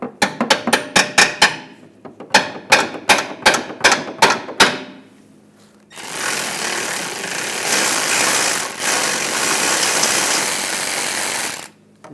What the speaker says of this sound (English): I'm just going to use a hammer. Just give the bolt